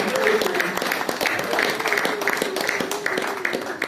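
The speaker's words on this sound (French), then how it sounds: "Est-ce qu'on peut acclamer pour la parole de Dieu?" A church congregation at a French-language sermon breaks into steady applause and cheering, many hands clapping together throughout, with a voice speaking over the crowd.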